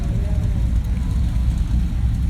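Heavy, even exhaust rumble from a 1972 Corvette at a Corvette rolling exhaust contest, with an announcer's voice faintly over the constant low engine noise.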